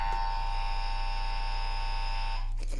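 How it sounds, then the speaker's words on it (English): A game show contestant buzzer gives a loud, steady electric buzz that holds for over two seconds and then cuts off, with nothing else heard alongside it. "has to hit their buzzer, which sounds like this."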